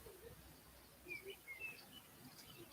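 Faint bird chirps and tweets come from a distance, scattered short calls over a quiet outdoor background with no talking.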